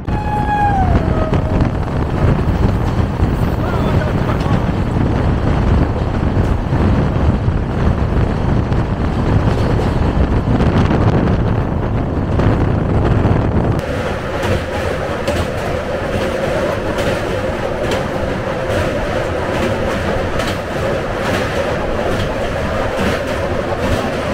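A Dhauli Express train runs past the Howrah–Secunderabad Falaknuma Express, a loud steady rumble and rattle of wheels and coaches that shifts partway through to a denser, brighter roar with faint tonal whines early on.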